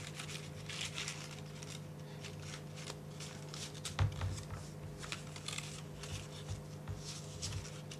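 A dollar bill is folded into an origami Pegasus along existing creases, producing soft crinkling and rustling paper bursts close up, with a single sharper tap midway and a faint steady hum behind.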